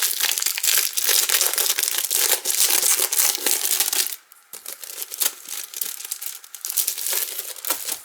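Packs of holographic cardboard paper are unwrapped up close, a loud continuous crackle of crinkling plastic wrap that briefly drops off, then resumes as softer, uneven rustling.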